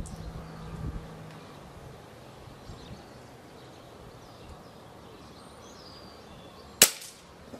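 An Air Arms TX200 air rifle fitted with a 22mm piston conversion fires a single loud, sharp crack near the end, after several seconds of quiet outdoor ambience with faint birds or insects.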